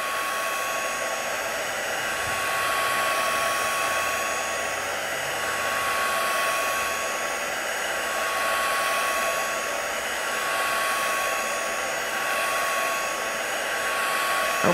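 A hair dryer blows steadily to dry craft paper for a black ice technique, a loud continuous whir holding at an even level throughout with no talking.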